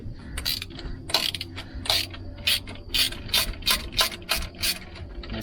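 A hand ratchet clicks in quick repeated bursts, close and clear, while loosening bolts on the top plate of a John Deere 2030 tractor during an internal hydraulic pump replacement.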